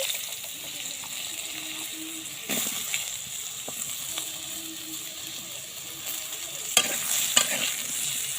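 Diced potatoes fry in hot oil with panch phoron, bay leaf and a dried red chilli. A busy sizzle runs throughout, with scraping stirs and clattering knocks near the end.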